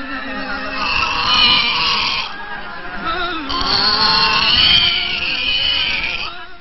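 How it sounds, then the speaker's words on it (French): A pig in Madagascar squeals loudly and repeatedly in protest as it is caught for a veterinary check, two long harsh screams near and prominent. "Le vétérinaire fait attraper ce porc."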